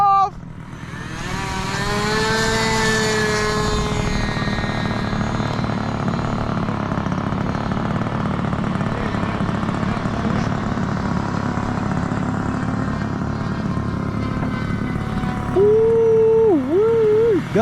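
Propeller airplane taking off at an air show at Scobee Field: a loud, steady engine drone with tones that rise in pitch early on, and a brief voice-like warble near the end.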